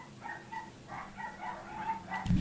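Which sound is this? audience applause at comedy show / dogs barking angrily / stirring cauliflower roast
dogs barking angrily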